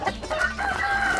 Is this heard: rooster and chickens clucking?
yes